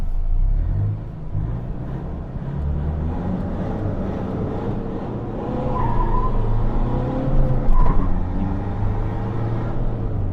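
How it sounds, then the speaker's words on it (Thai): A 2014 Toyota Hilux Vigo 2.5 E pickup rolls along with a steady low engine and road rumble, close and continuous, swelling slightly near the end with a brief tire squeal. "ตรงนี้ไปเดี๋ยวผมพาท่านผู้ชม เหยียบรถดูดีกว่านะครับ"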